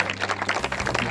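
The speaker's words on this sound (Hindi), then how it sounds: "तालियां बंद मत करो।" An audience at a Sindhi community gathering claps in a brief, fairly loud burst of many hands, the individual claps blurring into a short rhythmic patter.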